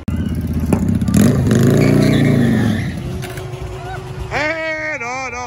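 Two red Audi RS5 cars roar through a drag race at a street racing event, their loud engines revving and shifting up in close pitch sweeps, under excited, shouting commentary from a nearby voice.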